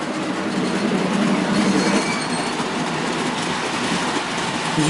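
A model train hauling a Pullman car runs steadily around its track in a museum, giving a continuous close rumble and rolling clatter with no voices.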